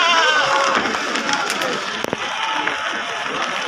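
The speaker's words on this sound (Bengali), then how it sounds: "ভাই এটা কি জাতের পাঠা দাদা?" A male goat bleats at the Teberia livestock market, a wavering cry near the start that rises above a busy crowd din, with people talking throughout.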